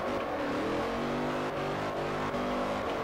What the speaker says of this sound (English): I am just drifting off here